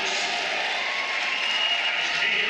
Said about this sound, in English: Big round of applause for Mat 2.